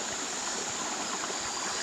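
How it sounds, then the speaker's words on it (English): A river flows steadily in the woods, a continuous broadband rush of moving water close by that holds even for the whole stretch, with no voices over it. "Oh, we made it to the river."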